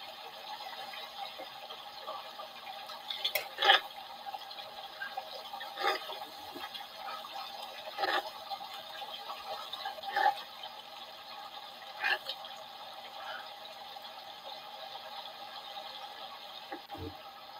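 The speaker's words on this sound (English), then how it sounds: "Oh, hold on, I need to get some of this water." Water runs into a container in a steady, fairly soft stream that lasts the whole stretch, with a few small knocks and clinks along the way and no talking.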